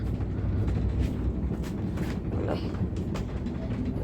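A train with an electronic door-locking system rumbles steadily on the line near Delhi, a loud, continuous low roar with faint rattling and brief higher hisses, heard close up and alone.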